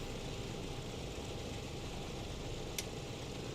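A DC-6 piston engine runs steadily after startup in Microsoft Flight Simulator 2020, a low, even drone with no talk and a single faint click near the end.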